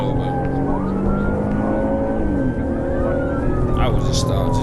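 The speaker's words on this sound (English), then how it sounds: "Even with sirens wailing, the gap only grew wider." Police car sirens wail steadily during a pursuit over the heavy rumble of traffic, rising and falling tones overlapping continuously, loud and close.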